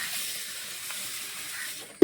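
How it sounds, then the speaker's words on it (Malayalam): Water comes to a rolling boil in a pot over an open fire, ready for raw white rice, giving a steady close hiss and bubbling wash that holds evenly throughout, with a brief knock at the very end. "വെള്ളം നല്ല തിളച്ച് സെറ്റായിട്ടുണ്ടല്ലേ?"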